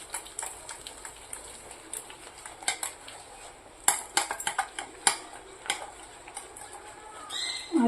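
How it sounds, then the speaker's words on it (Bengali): A spoon clinks and scrapes against a bowl while turmeric and salt are mixed into fish for pakoras, with repeated sharp taps spread unevenly through the stretch. The sounds are moderately close and there is no talk. "ভালো করে মিক্সড করে নেব।"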